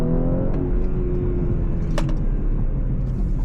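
A 2020 Audi S5 Coupe accelerates in traffic, heard from inside the cabin as a loud, steady engine drone with a rising harmonic tone and one sharp click midway.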